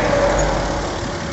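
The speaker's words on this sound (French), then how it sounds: "Vous voyez, ici, le moteur, il tourne." Jaguar XF engine idling steadily during a hydrogen decarbonization service, a close, even mid-pitched hum with faint mechanical noise and no talk.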